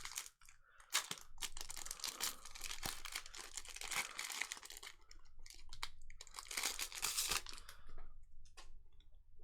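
Pokémon Crown Zenith booster pack wrappers being torn open and crinkled up close, loud bursts of crackling foil with short pauses between, no talking.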